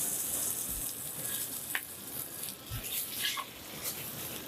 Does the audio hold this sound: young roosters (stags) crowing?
no